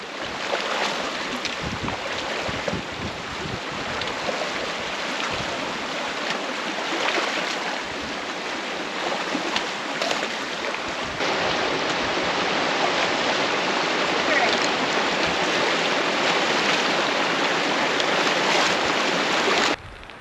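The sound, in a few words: water of a cold snow-melt creek being crossed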